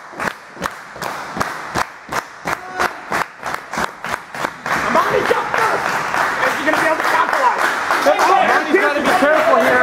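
Rhythmic clapping from a wrestling event crowd, about a dozen steady loud claps, then swelling into dense applause, cheering and shouting that fills the room.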